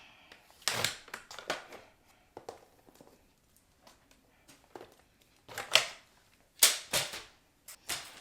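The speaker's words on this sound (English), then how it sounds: "let's go ahead and just put this back into our trimmer and cut off about that much" Paper trimmer slicing through cardstock during a card-making project: several sharp, dry cutting snaps and short sliding clicks come in separate bursts, with quiet handling pauses between them and no voices.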